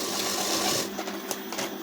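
Sewing machine stitching a blouse, running steadily for under a second, then giving way to softer, intermittent mechanical clicks and shuffles up close.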